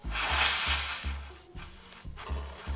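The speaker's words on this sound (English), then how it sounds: "this is the spray foam I am using. It is a big gap filler" A can of big-gap spray foam filler releases a loud, continuous hissing spray over about three seconds, with a steady low thumping pulse underneath. No talking.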